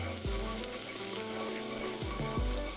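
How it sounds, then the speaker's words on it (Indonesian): Anchovies fry in hot sesame oil, giving a steady, loud, close sizzle that runs unbroken throughout, with a few low knocks from a utensil against the pan. "panaskanlah minyak wijen, lalu tuang ikan teri dan tumis ikan teri ini sampai matang ya"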